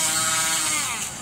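Dremel rotary tool buzzing steadily while cleaning a megalodon tooth, a loud continuous high-pitched whine held close to the microphone and easing slightly toward the end.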